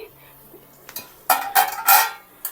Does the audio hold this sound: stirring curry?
yes